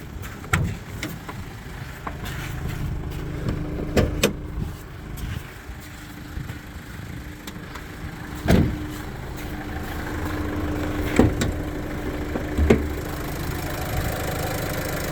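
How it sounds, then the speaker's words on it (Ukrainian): A Renault Master van's engine idles steadily at close range for the whole stretch, with occasional clicks and knocks over the even hum. "Зараз вам покажемо під капотом роботу двигуна."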